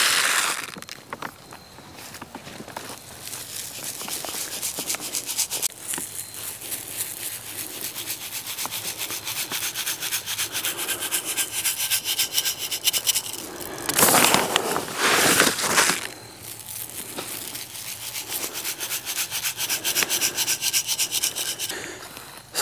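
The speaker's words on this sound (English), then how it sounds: "all I'm doing here is kind of working it in the first inch or two of soil" Garden soil being worked by hand to mix minerals into the top inch or two before planting garlic, a steady close scratching and rubbing that keeps going throughout, with a louder rough burst partway through.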